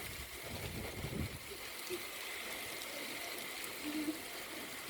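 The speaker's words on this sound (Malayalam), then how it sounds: "മലേൻ്റെ മുകളിൽ നിന്ന് ഇങ്ങനെ വെള്ളം ചാടി വരുന്നു" Water tumbling down a hillside on a rainy, windy day, a steady broadband rush with faint low bumps and no talk.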